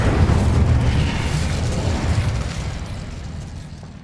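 The Incendio fire spell cast in Hogwarts Legacy bursts out as a loud, close whoosh and rumbling boom that stays strong, then slowly fades over several seconds.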